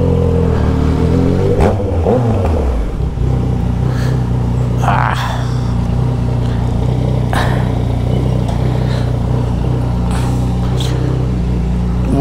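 A Yamaha MT-09 Tracer motorcycle with a stainless steel Atalla 3x1 exhaust revs up loudly and close, then settles into a steady, deep idle rumble with occasional clatter.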